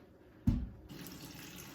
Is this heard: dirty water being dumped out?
yes